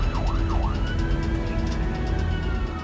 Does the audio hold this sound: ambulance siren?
yes